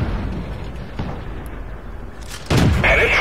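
Artillery fire in the tank game World of Tanks: a dull rumbling backdrop with a few soft thuds, then a loud, sharp blast at the end that stays heavy and sustained.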